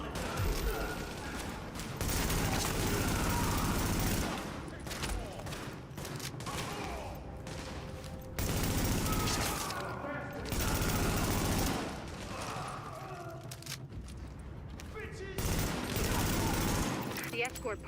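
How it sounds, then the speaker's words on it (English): Bursts of automatic gunfire and weapon volleys from the video game The Division come in waves of fusillade separated by quieter stretches, with game ambience in between. "The escort party's taking heavy fire"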